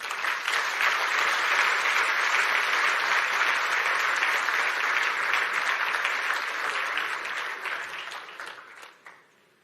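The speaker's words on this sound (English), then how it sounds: "A round of applause for Waziri Moses Kuria" Sustained applause from the audience at a business forum in Nairobi, a dense wash of many hands clapping at an even level that gradually fades away near the end.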